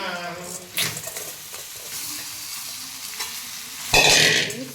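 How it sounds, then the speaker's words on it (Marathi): Turmeric dropped into hot oil in a pan while cooking potato filling for vada pav, sizzling and frying loudly as a spoon stirs, with a sharp burst of sizzle near the end and no talking. "तेल थोडंसं थोडीशी हळद टाकू"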